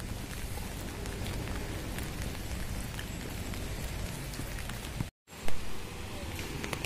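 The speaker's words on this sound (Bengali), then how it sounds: "মনে হয় বৃষ্টি সারাদিন বৃষ্টি হবে" Rain falls steadily on a cloudy day, a close, constant pattering hiss with scattered drops, briefly cut off by a short gap near the end.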